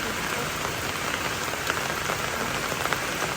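Steady, dense rain pattering on a surface nearby, a continuous hiss with scattered droplet taps and no voices.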